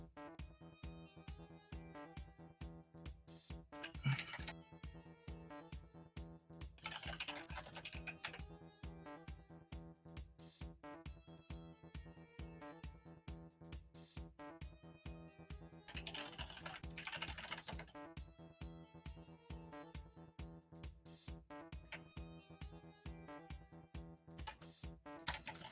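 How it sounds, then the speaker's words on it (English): Rapid, continuous typing on a computer keyboard during a live Super Mario Maker 2 Endless Mode speedrun league stream, the clicks running steadily for nearly half a minute beneath a constant layer of tonal music. "forgive my typing, guys"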